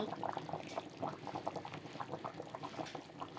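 Katla fish curry bubbling in a pan: a steady, busy simmer of popping and spitting bubbles throughout, fairly close and continuous with no talking.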